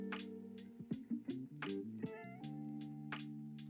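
A pet cat meows repeatedly in short, clear calls, close by and fairly loud, with a steady tonal hum underneath.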